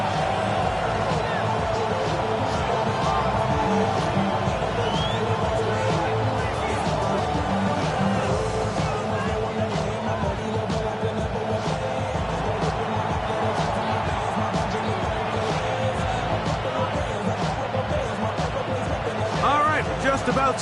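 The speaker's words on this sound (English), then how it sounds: "The crowd is definitely ready." A stadium crowd in the Madden 26 football video game, at East Rutherford before a Panthers versus Jets matchup, keeps up a constant dense roar and babble, with voices over it.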